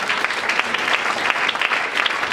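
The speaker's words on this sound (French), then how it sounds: "Est-ce qu'on peut acclamer très fort pour ça?" A church congregation applauds loudly, dense sustained clapping from many hands filling the room, with faint cheering mixed into the steady roar.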